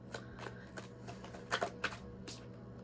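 Tarot cards shuffled and drawn by hand, soft papery riffles and flicks in several quick bursts, close and quiet with no talking.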